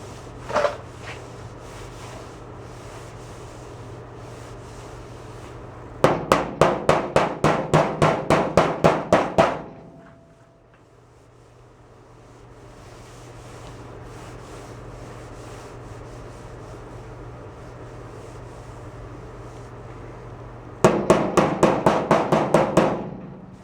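Sanding on the body of a 1968 VW double cab, heard as two bursts of fast rhythmic rasping strokes, loud and close, separated by a quieter stretch of low background noise.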